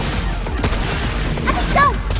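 Gunfire in the video game Pragmata: rapid bursts of shots and impacts over game sound, with voices talking over them.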